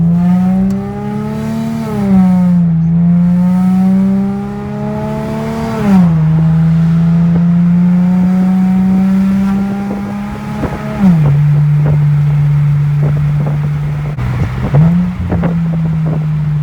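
Infiniti G37 with a service engine light on driving and accelerating, its engine note climbing through several gear pulls with clear shift drops, loud and steady from inside or near the car.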